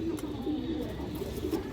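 A Hungarian Budapest high flyer hen pigeon coos in low, steady murmurs over a constant background hum, close and moderately quiet.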